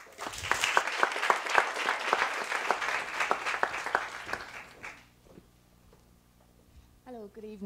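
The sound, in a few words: audience applause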